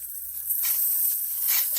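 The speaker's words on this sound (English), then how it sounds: "I'm gonna drop them gently to the frying pan." Steady hot-oil sizzling, bright and hissy, swelling briefly as crab is lowered into the frying pan.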